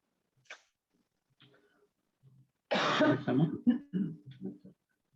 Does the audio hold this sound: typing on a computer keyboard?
no